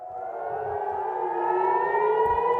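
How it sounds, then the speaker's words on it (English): A civil-defense air raid siren wails steadily, its tone slowly rising and swelling louder over a couple of seconds, distant and alone, with a low background rumble and no talk. "Now, as air raid sirens ring out again, the tension and the anxiety are increasing."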